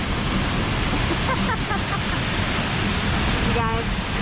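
Water of Minnehaha Creek rushing steadily, a broad loud roar with no pauses, with a few faint chirps and a brief voice underneath.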